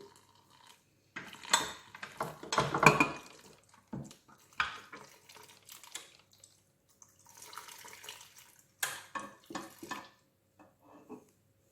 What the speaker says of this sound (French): Hop, on met tout doucement et on commence à battre, à mélanger.